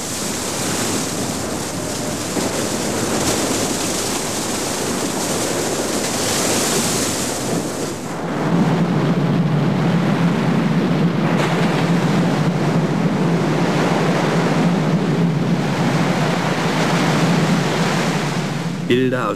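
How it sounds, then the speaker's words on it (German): Loud, continuous rushing water and roaring spray from fire hoses and water cannons blasting over a boat, shifting partway through to a deeper churning wash, with wind buffeting throughout. "Flugwasser aus Feuerwehrschläuchen und Wasserkanonen sprüht über das Boot"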